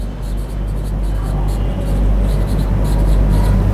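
Marker or chalk writing on a board during a fifth-grade maths lesson, a steady scratchy rubbing that runs continuously under low background hum.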